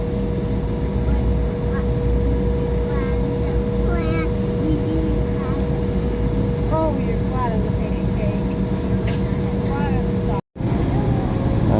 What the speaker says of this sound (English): I hear the engines revving, so I think we're getting ready to go.